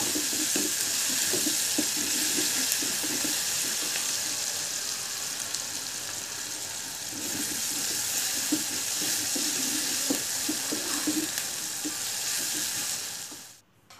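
Onions frying with salt in a pan for a spicy Thalassery-style anchovy fish curry, a steady loud sizzle running throughout with faint stirring clicks, cutting off sharply at the end.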